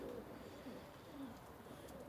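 Soft, low coos from pigeons in an aviary repeat a few times at a distance, with faint rustling and background hum around them.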